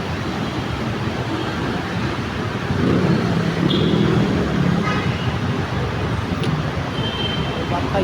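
Steady road traffic roars around a rider on a Premo big bike stopped at a red light, a dense continuous wash of engines and tyres with faint brief horn-like tones.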